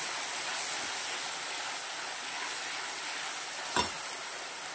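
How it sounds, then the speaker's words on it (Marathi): Onion-garlic paste fries in oil for a spicy brinjal curry, giving a steady, even sizzle throughout with one brief scrape or stir near the end, and no voices. "2 ते 3 मिनिटं कांदा लसूण पेस्ट तळून घ्यायची आहे."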